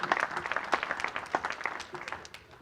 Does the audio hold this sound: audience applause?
yes